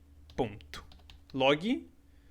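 Code typed on a computer keyboard in the Unity editor: scattered, light keystroke clicks under a voice speaking, fairly quiet and close.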